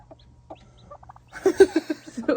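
Hens clucking in a coop alongside a newly hatched chick, soft scattered peeps at first, then a louder close run of rhythmic clucks, with no talking.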